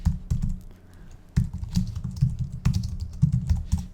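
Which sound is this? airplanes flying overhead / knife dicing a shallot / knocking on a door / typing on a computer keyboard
typing on a computer keyboard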